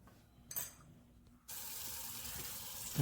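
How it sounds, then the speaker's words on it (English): Tap water runs into a kitchen sink to rinse saltfish for a Jamaican breakfast, starting as a steady close gush after a quiet moment with a few faint clinks, then rising slightly at the end. "So I'm washing out the saltfish, clean it up, and pick it up."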